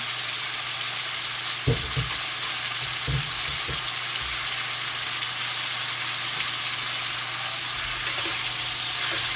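Jamaican curry goat frying in a pot, a steady close sizzle with a few short bumps and scrapes as the meat is stirred, no voices.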